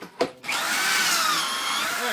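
A power drill bores holes in wood held by a Kreg Jig foot clamping system, a short whir up front and then a sustained loud drilling whine with slight pitch shifts, close by.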